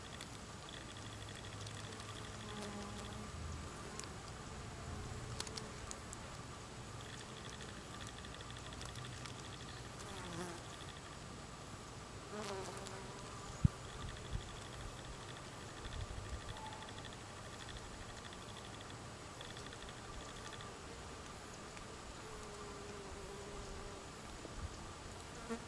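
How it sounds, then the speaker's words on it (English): A very large honeybee buzzes among wild Louisiana asters outdoors, a faint, continuous insect drone that persists through the whole stretch against a soft background hum, with a single brief tick partway through. "There's a very large honeybee."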